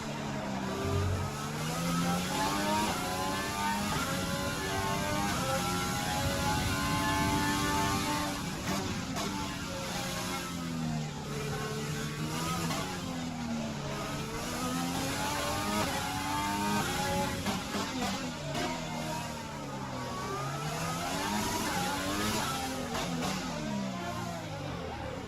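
Ferrari Formula 1 cars racing at Monaco in F1 2020, a loud continuous engine whine rising and falling through gear changes as cars close in behind, steady and close throughout with occasional faint talk.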